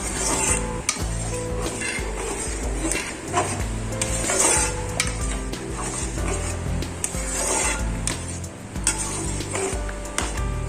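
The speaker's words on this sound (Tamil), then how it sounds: "நல்லா அப்படியே கிண்டிகிட்டே இருப்போம்" Semolina being stirred continuously in a pan for rava kesari, a steady close scraping and rubbing of the spoon against the pan with small knocks throughout and no voices.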